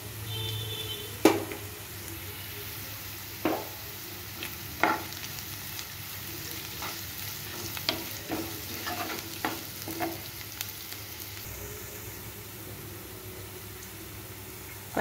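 Onions, dry red chilies and grated ginger-garlic frying in a pan for an aloo palak curry, a low steady sizzle broken by a series of sharp scraping stirs and clinks spaced every second or two.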